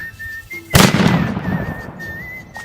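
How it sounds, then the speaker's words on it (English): A single sharp report from a Seahag 50 rifle breaks the quiet, loud and close, with a decaying tail and a faint whistle-like tone running through the background. "So now your Seahag 50 is ready to fire."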